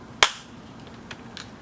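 One sharp hand clap, close and crisp with a quick decay, followed by a quiet room and a couple of faint, smaller clicks afterward.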